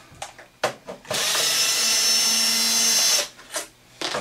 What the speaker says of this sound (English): I just happen to have mine on a screw gun. Remove all these long screws.